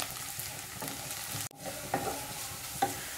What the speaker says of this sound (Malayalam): ഈ ഉള്ളി ചെറുതായിട്ടൊന്ന് ഫ്രൈ ആയി തുടങ്ങി വന്നിട്ടുണ്ട്